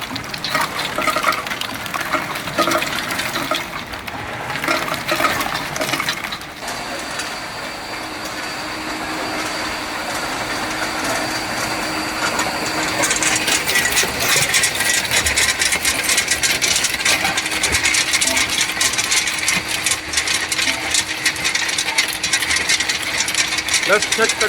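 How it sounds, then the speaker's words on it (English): Screw conveyor carrying ice cubes in a tube ice plant's packing area, a continuous loud mechanical churning and grinding with rattling ice over a constant machine hum, with a voice talking over it. "The worker open on the screw conveyor by pressing this foot switch."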